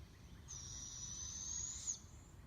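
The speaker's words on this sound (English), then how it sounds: "but that is an owl." An owl calling outdoors, a single sustained high hooting note lasting over a second, faint against quiet rustling background noise.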